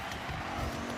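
A 30-year-old BMW racing at about 200 mph in a video game, a brief steady engine drone at high speed.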